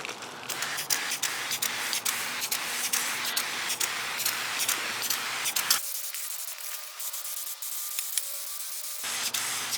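A steady hissing aerosol spray of wrinkle paint onto a Honda D16 turbo engine valve cover runs continuously up close, briefly changing tone midway before resuming, with faint rubbing clicks.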